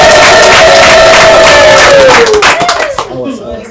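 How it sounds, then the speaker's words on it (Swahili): A loud crowd at a traditional wedding ululates in sustained, wavering high trills with whoops and some clapping mixed in, the chorus thinning toward the end. "Piga tena vigelegele."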